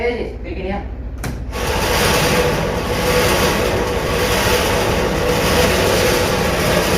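Two automatic feed motors run in a poultry house powered by a 42 kVA generator, producing a loud continuous mechanical rumble and rattle that starts after a brief sharp clack and keeps going steadily.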